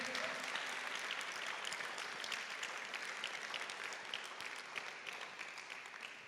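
A church congregation claps in sustained applause, a thick wash of many hands that stays even and then eases slightly toward the end, heard from a distance within the hall.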